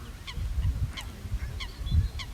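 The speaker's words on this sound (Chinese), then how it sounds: "再加上湖里边有鸭子，咱们看看这只鸭子在干什么" A duck on a lake at an English country estate gives several short, nasal honking calls spaced irregularly over a soft outdoor background.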